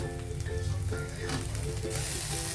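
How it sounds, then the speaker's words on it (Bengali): Chopped tomato hits hot oil over fried onions in a pan, raising a loud, dense sizzle that hisses steadily close by while it is stirred, with no talking. "টমেটোটা অ্যাড করে দিলাম দিয়ে নাড়াচাড়া করবো"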